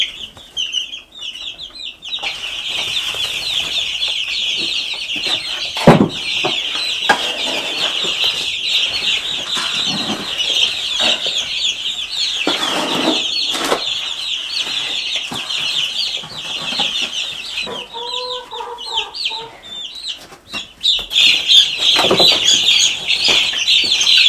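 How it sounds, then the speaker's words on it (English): A crowd of chicks peeps constantly while chickens cluck nearby, with occasional bursts of wings flapping and rustling through the steady chatter. "the chicks are doing fine, as you can see here. They're growing a lot."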